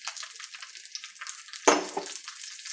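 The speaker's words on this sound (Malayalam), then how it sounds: "പച്ചടിക്കകത്ത് നമുക്ക് ഒഴിക്കാം കടുക് വറുത്ത്" Hot fried mustard seed tempering is poured into bitter gourd pachadi for Onam, giving a sudden sharp sizzle that fades into faint crackling, with soft kitchen hiss before it.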